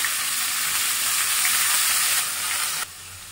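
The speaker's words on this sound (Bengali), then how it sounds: "এখন আমি হচ্ছে দিয়ে দিচ্ছি পেঁয়াজ বাটা" Onion paste hits hot oil with garlic cloves, giving a loud, close, steady sizzle that drops off abruptly at the very end.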